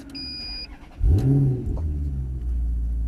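A chime sounds, then a Maserati GranTurismo S engine cranks and fires up with a rising roar before settling into a steady, deep idle close by.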